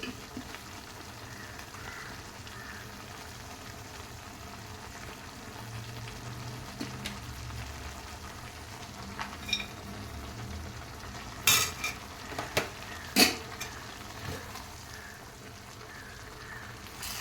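Beans and potato upkari cooking in a pan, a steady low frying hiss throughout with a few sharp clinks of a utensil against the pan near the end, close and quiet, no voices.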